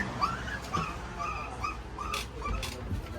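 Puppy whimpering, repeated high thin whines and short yips in an uneven rhythm, close and moderately loud, with faint background noise and no clear speech.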